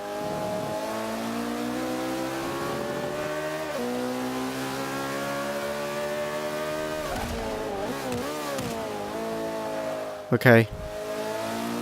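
A McLaren P1 race car in the Forza 5 video game, its engine revving steadily with rising and falling harmonic tones through gear changes, a brief loud burst near the end, while someone speaks briefly over it.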